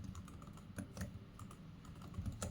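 Quiet typing on a computer keyboard, entering input for a C program, makes a soft, irregular run of keystroke clicks with no talking.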